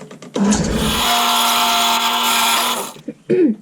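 A drill bores out the centre of a pen tube in one continuous, close whining run of about two and a half seconds, then stops, followed by a brief further burst.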